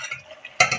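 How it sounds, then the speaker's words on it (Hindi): Mutton korma with green chillies and ginger is stirred in hot ghee, a soft sizzle with scraping ending in a louder burst of spatter and stirring, close by. "घी सेपरेट होने तक हम ना इसकी बुनाई कर लेते हैं।"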